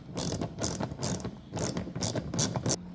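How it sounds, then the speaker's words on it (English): Rapid ratcheting clicks from a socket wrench fitted with a 10mm socket as it backs out a rear bumper bolt on a Tesla Model 3/Y, coming in several close, loud bursts of clicking with no talk. "the additional tool you're going to need is just like a socket wrench with a 10mm socket"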